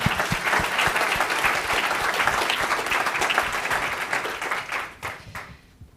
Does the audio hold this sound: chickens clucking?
no